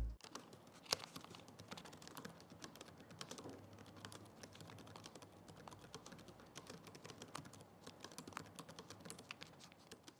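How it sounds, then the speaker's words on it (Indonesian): Keys on the keyboard of an ROG Flow X13 GV301RA laptop are typed on continuously for about ten seconds, a quiet, close run of soft, rapid clicks with irregular rhythm and no voices. "berikut ini adalah contoh suara feedback dari keyboard ROG Flow X13"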